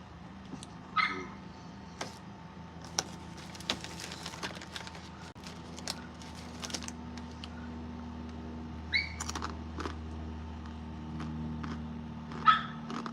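A dog at a backyard bar gives a few scattered barks and yips over steady low background hum, with long quiet gaps between the short bursts.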